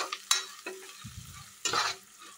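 Food frying in a pan on a home stove, a spoon or spatula scraping and stirring in a few short strokes over a low, steady sizzle, close and without talking.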